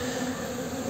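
Honeybees clustering on a queen make a steady, dense buzzing drone, close and constant for the whole second, with no voices.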